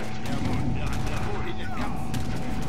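Dense crackling musket fire in a game battle, shots overlapping continuously with rumbling background noise and faint voices.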